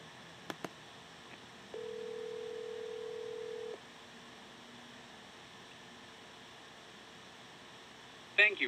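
An outgoing telephone call placed through a PBX trunk: a few faint clicks, then a steady line tone held for about two seconds before it cuts off, over a quiet hiss, with a brief louder burst at the very end.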